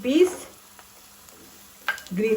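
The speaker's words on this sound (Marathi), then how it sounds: "आमकां मातसो कांदो बरो तळसून घेवपाक जाय।" Chopped onion and green peas fry in a pan for Goan-style rava upma, a soft, low sizzle sitting quietly between stretches of a voice talking at the start and end.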